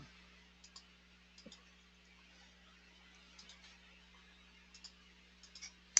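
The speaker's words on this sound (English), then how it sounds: "And I'm just right-clicking on all of this." Faint computer mouse clicks come in small clusters of two or three across several seconds over a quiet hum during contour-drawing work in the GensFluidContour software, with no talking.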